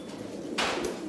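Racing pigeons packed in baskets before a 170 km club race, cooing close by in a low, throaty burst that swells midway, with no talking.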